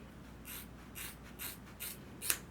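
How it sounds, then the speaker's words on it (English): Scissors from a buzzer kit snip through long hair at home, five short crisp cuts at a regular pace, close and fairly quiet, the last one sharper. "And I'm gonna use some scissors."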